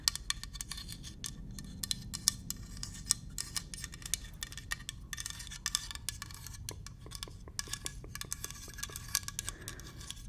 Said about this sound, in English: the metal tip taps